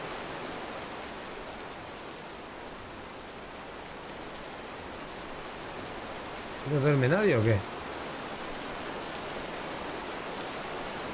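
Steady rain hisses across the whole stretch in the This Land Is My Land video game, with someone briefly speaking over it midway.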